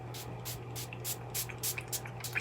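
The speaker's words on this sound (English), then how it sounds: "I am going to spray it in my hand so that they can see it" Lemongrass leave-in conditioner sprayed from a pump bottle into a hand, a run of short, close hissing bursts in irregular rhythm over a steady low hum.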